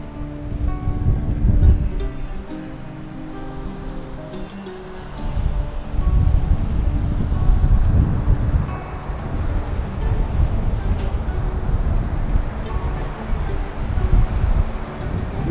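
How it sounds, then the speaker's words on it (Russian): Surf and wind roll steadily along the hotel beach in Mahdia, Tunisia, a broad continuous wash of waves with gusty microphone rumble, no voices. "Пляж отеля. Вполне приличный пляж."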